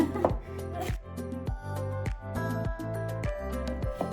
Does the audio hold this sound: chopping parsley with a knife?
yes